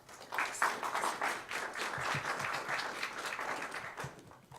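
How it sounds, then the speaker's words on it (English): An audience claps steadily for several seconds, a dense wash of applause from many hands. "Please give him a big round of applause."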